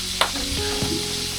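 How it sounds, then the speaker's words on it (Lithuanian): Fish frying in a pan, a close continuous sizzle with a sharp crackle near the start and a few soft clinks over the hiss. "žuvį doroja. Kepa."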